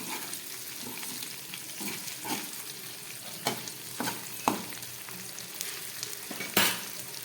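Lightly boiled potato, onion and tomato frying in a pan, a soft sizzle under irregular stirring scrapes and a few sharper clanks, fairly quiet with no talking.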